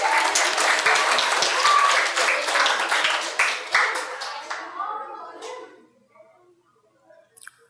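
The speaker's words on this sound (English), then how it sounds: "Give them a round of applause." A primary school quiz audience applauds the prize-winning team, dense sustained clapping that fades out over the last few seconds to near quiet.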